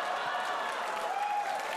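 An audience applauds at a comedy gala, a dense steady wash of clapping heard alone and fairly loud throughout.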